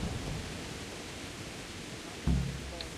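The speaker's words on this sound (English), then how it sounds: "Hopefully this rain is not too loud" Steady rain falls in Kingdom Come: Deliverance as a constant hiss, with a dull low thump near the end.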